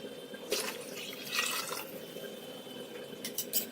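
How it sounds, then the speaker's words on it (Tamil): Water is poured from a vessel into a bowl of cooked rice for finger millet balls, a soft splashing trickle with a few louder gushes, close by and without speech. "இந்த சாதத்துக்கு ஒரு 2 சொம்பு தண்ணி ஊத்திக்கோங்க"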